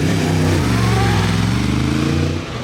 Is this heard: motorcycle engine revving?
yes